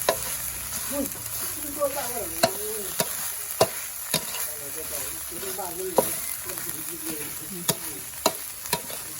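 Rice-field rat stir-fried with holy basil over low heat, an Isan dish: a steady sizzle runs throughout, broken by sharp spatula clacks against the pan at irregular intervals, with a voice talking faintly beneath.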